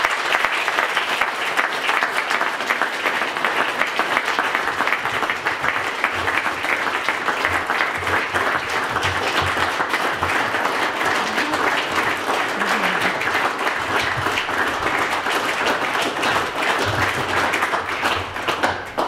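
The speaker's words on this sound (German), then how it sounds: "Wenn ihr schon bei der Urkunde so klatscht" An audience at a German Federal Cross of Merit award ceremony breaks into loud, sustained applause, dense clapping filling the room for nearly twenty seconds without pause, with a few faint voices underneath.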